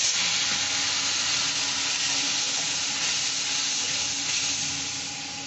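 Steady, loud sizzle of ground chili powder and salt hitting a splash of water in a hot pan, a dense continuous hiss that fades slightly toward the end, with no talking.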